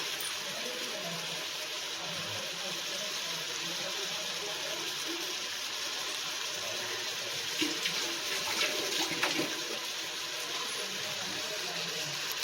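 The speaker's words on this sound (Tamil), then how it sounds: "இப்போது நம்ம அரைச்சி வச்சிருக்கிற தேங்காய் பாலை இதில் சேர்த்துக்கலாம்." Ground coconut milk poured into a cooking pot for paneer pulao makes a steady, continuous liquid rush that holds even for the whole stretch and swells slightly near the end.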